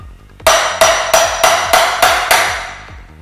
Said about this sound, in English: And then we're gonna tap on it with a hammer.